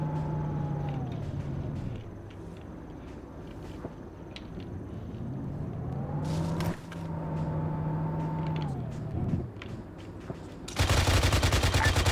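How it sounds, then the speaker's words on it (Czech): Leopard tank in the game Arma 3 firing. A rising and falling engine whine runs through, with sharp bursts of gunfire, and a loud dense salvo closes the passage. "Ten Leopard střílí po něčem, co už je dávno mrtvý"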